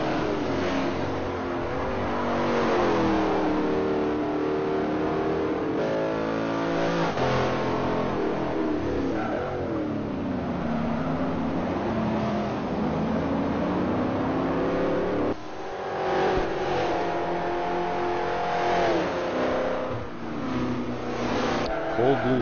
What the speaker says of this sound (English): Just, again, listen to the car 4Cam there for a little. Love the sound of it.